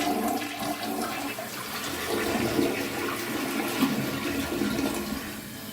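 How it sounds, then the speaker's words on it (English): A toilet flushing after its flush has been adjusted, a strong steady rush of water running continuously and fairly close, with no voices over it. "Now let's see how much this flushes now."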